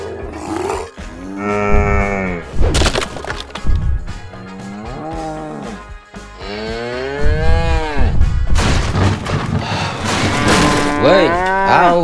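A large cow moos repeatedly, long loud bellowing calls with short gaps between them, close and prominent, with some thumps and scraping in between.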